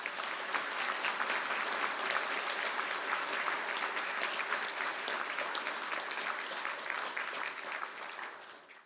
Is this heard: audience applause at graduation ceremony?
yes